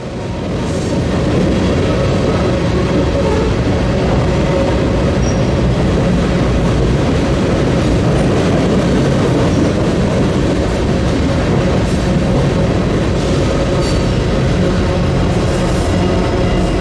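A Norfolk Southern train crosses the Potomac River, its steady, loud rumble and rolling wheel noise running continuously without pause.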